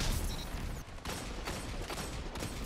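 Rapid gunfire from the video game Destiny 2 fills the short stretch, a dense, continuous rattle of shots with a few sharper bursts, loud and steady with no talk over it.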